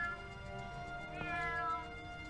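A cat meows softly in a drawn-out cry against a steady, faint background hum, with no one speaking.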